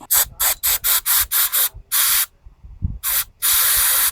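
Close spray bursts flush melted hose bits out of a snowblower part: a rapid train of short hissing squirts, a longer blast, a quiet pause with a small clunk, then more spraying running on to the end.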